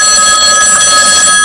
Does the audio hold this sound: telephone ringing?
yes